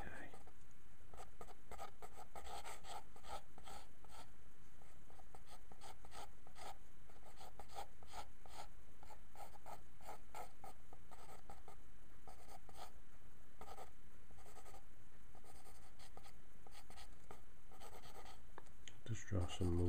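A pencil sketches loose strokes and movement lines for a shooting star tattoo design on paper, a soft steady scratching close to the mic while someone talks over it.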